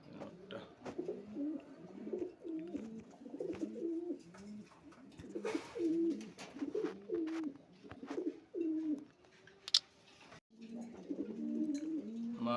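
White Bombay pigeons, a pair kept for sale, coo in steady repeated low rolling phrases close by, with a brief pause before the cooing resumes.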